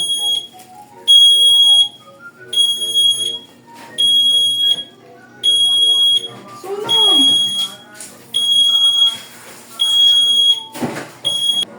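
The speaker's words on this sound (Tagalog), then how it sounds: "gumana yung smoke detector natin" A smoke alarm beeps loudly in repeated bursts of rapid high-pitched tones, pausing briefly between each, with a voice speaking briefly in between.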